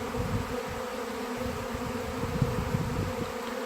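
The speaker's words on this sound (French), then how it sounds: "Donc vous voyez ce que ça fait un essaimage." A swarm of honey bees around bait hives gives a dense, continuous buzzing drone, close and steady throughout, with no speech.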